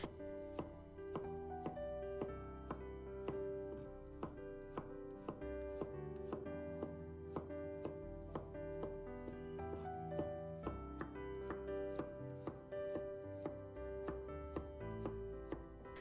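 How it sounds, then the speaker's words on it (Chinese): A kitchen knife minces garlic cloves on a cutting board in a steady run of evenly spaced chopping taps, heard under continuous background music. "然后再给它改刀切成大蒜末。"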